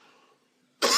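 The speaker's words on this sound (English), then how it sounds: "Bit of cough in here" A single sharp cough bursts out near the end after a quiet stretch of faint room tone, loud and close, with a throat-clearing rasp.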